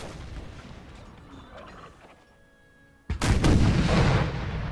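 Cannon artillery fires in the Napoleonic battle game Napoleon Total War. Quiet battlefield ambience comes first, then a sudden loud booming volley of cannon and gunfire breaks out and keeps rumbling heavily until the end.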